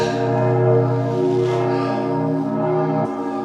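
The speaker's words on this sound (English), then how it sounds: "Couldn't speak at the top because the bells were going off, 3 enormous bells, and they were shaking the entire structure." Three enormous church tower bells in Sibiu, Transylvania ringing close and loud, a sustained rich metallic chime with layered humming overtones that swells and slowly decays.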